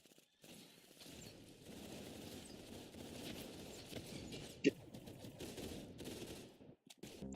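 Video game gunfire crackles in quick bursts and single shots over a busy game soundtrack, with a louder crack near the middle and short gaps between volleys.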